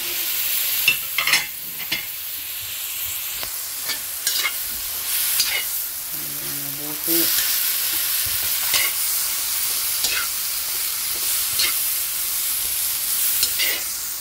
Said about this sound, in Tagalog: nilagay na natin ng ating vegetables. Ang carrots. After the carrots, we have also the beans.